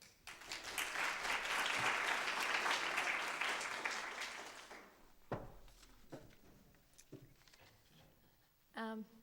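An audience at a lecture by Kate Clark applauds for about five seconds, a dense burst of clapping that fades out, followed by a few scattered knocks and thumps in a quiet room.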